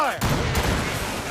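Ship cannons firing in a naval battle in Assassin's Creed Rogue: a heavy booming volley that opens sharply and then rumbles on with a second blast, loud and close.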